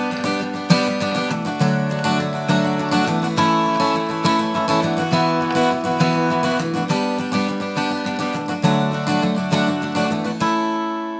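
An acoustic guitar strums a song's chorus, with rhythmic chord strokes and shifting chord shapes played close and clear, with no voices.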